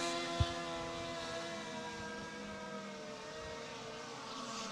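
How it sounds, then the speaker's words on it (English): Distant 1100 runabout racing motorboats drone steadily over the water at a race in Constantine, Michigan, a layered whine of several boats with one brief knock near the start. "Multiple boats now coming onto the water."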